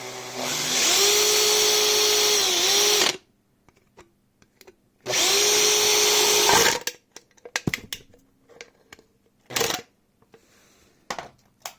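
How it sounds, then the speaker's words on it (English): A power drill boring into a metal can during work on an 85cc engine's carburetor, two sustained whining bursts of about two seconds each, then scattered clinks and taps of metal being handled, close and loud with no talk. "I don't know if a drill was too much to use for a can"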